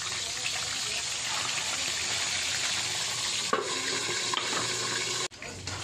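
Pork belly (liempo) fries in hot oil with a dense, continuous sizzle and crackle at close range, a few louder pops breaking through near the end.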